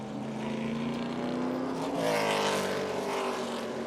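A race car with damage to its left rear and a flat left front tire refires its engine during the General Tire 100 ARCA Menards race at Watkins Glen, a loud rising engine note that climbs and swells midway.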